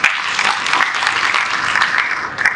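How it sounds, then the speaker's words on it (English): An audience applauds steadily at a national integrity awards ceremony honouring politicians, a dense, sustained wash of clapping that holds at an even loudness throughout with no voices on top. "So we really want to applaud you,"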